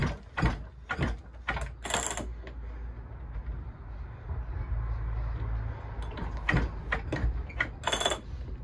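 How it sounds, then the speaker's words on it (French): A spark plug is unscrewed on an Echo 660 EVL chainsaw, giving a series of close ratcheting clicks and metallic turns, with a quieter stretch in the middle. "je vais dévisser un peu la bougie pour faire passer la compression"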